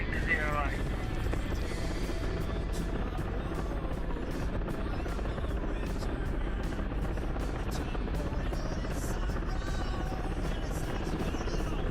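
An aircraft taxis in the DCS World flight simulator, with a steady engine whine and rapid rhythmic chopping throughout and voices over it.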